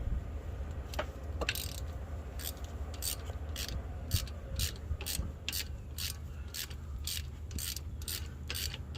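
A ratchet works the 14 mm brake bolts on a 2012 Chevy Malibu, giving a quiet, rapid train of regular clicks against low background hum, close up and without talk.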